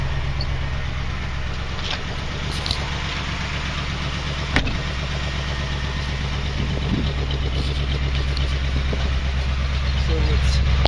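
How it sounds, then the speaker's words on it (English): A 1979 Jeep CJ-5 with a 304 V8 idles with its exhaust running, a steady low rumble that grows slightly louder toward the end, with faint voices in the background. "nice exhaust shot"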